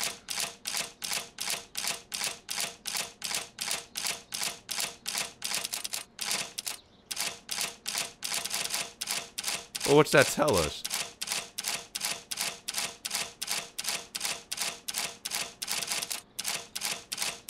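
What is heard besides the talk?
safe combination dial clicking in Sherlock Holmes video game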